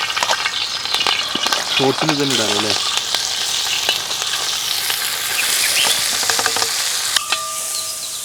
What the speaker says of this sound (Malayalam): നമ്മളിനി അതിലോട്ട് ഉള്ളിയും ഇഞ്ചിയും നമ്മൾ അരിഞ്ഞെടുത്ത പച്ചമുളകും വെളുത്തുള്ളിയൊക്കെ ഒന്ന് മൂപ്പിച്ചെടുക്കാനായിട്ട് പോവുകയാണേ